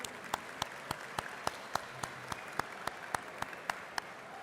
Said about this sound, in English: have everyone give a round of applause for the amazing team at Catering and Food Services